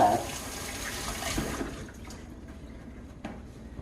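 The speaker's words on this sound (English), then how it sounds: "So let me rinse my hands" Running tap water splashes over hands being rinsed in a kitchen while baking a pineapple upside-down cake, loud at first and then thinning out as the flow fades, with a few small knocks.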